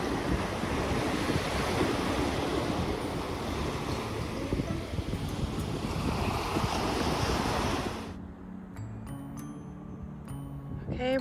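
Ocean waves break continuously on Atlantic Beach in a loud, dense roar with wind buffeting the microphone, then drop abruptly to a much quieter, distant wash near the end.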